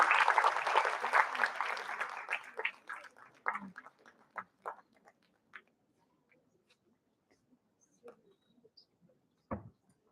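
An audience at a national academic award ceremony claps loudly at first, the applause thinning into scattered claps and fading out, with a couple of isolated late claps.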